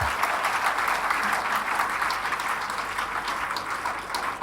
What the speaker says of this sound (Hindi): तो आप सभी के लिए एक जोरदार तालियां होना चाहिए।